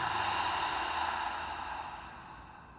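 A long, steady breath pushed out through the mouth in a yoga breathing exercise, a soft airy hiss that starts fairly full and slowly fades over about three seconds, close and alone with no talk.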